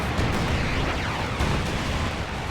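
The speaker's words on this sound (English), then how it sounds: "Here comes the airstrike." Airstrike explosions in the World War II strategy game Company of Heroes 2, a dense, loud, continuous rumble of blasts rolling through the whole short stretch with no speech.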